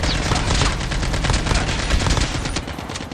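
Gunfire in a shooting video game comes as dense, continuous rapid bursts, loud and close, filling the whole few seconds without any pause or speech.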